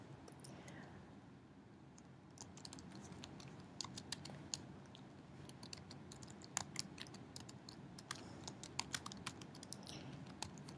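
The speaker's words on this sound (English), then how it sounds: "Now you can start out by typing your topic in here." Typing on a computer keyboard while entering a search topic on a library website, with soft irregular key clicks that grow denser and more pronounced over a faint background hiss.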